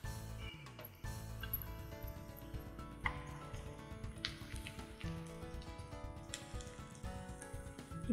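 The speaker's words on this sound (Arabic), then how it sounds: "ابتدى معانا البصل اهو يحمر" Chopped onions fry in a pan, browning for a seafood soup to go with fish in coconut milk. A steady, dense sizzle with soft crackles runs throughout at moderate loudness.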